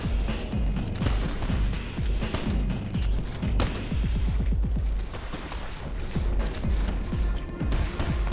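Rapid gunfire and heavy grenade blasts from the video game Escape the Liminal Dome, dense and loud throughout, with repeated sharp shots and booming impacts layered together.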